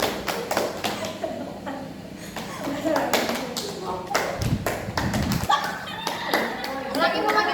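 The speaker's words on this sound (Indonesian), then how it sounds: "Teman-temannya yang bantu tepuk ya." Classroom of children clapping in rhythm during a counting game, sharp hand claps in short groups mixed with a teacher's voice and children chanting over the beats.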